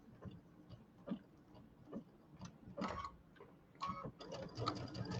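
A home sewing machine makes a few short bursts of stitching to tie off the ends of a Kimberbell cutie table topper quilt border, light rhythmic whirring clusters with quiet gaps between them, close by.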